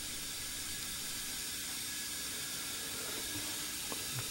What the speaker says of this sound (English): The rotary switch is currently set to output the white noise, so let's increase the volume to hear it